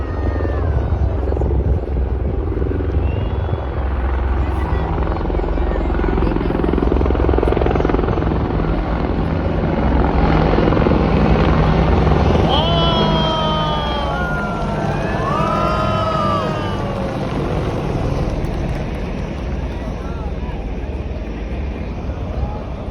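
An Indian Air Force formation roars overhead at the Republic Day parade. The loud, continuous rotor-and-engine thunder holds steady throughout, with thin whining tones rising through the middle.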